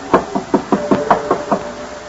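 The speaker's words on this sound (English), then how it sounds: "Knock, George. Knock." Seven firm knocks on a door land in an even rhythm, each a sharp hollow rap with steady spacing, close by and with no voices over them.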